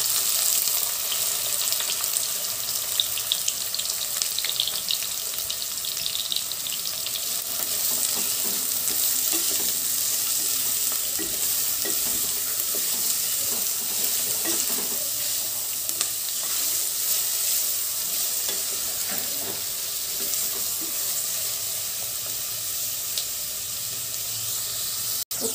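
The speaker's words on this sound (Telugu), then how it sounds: "ఆయిల్ వేడయ్యాక ఇందులో మనం కట్ చేసి పెట్టుకున్న ఆనియన్స్ వేసుకోవాలి" Chopped onions fry in hot oil inside a pressure cooker for a mutton curry, giving a steady, dense, close sizzle that holds evenly throughout with no talking.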